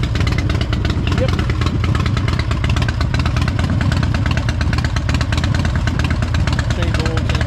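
A Harley-Davidson Road King salvaged from auction and rebuilt runs steadily at a close, loud idle, its rumble continuous and uneven with a clattering mechanical edge throughout.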